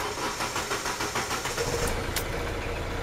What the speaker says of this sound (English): So it took a bit longer to start up.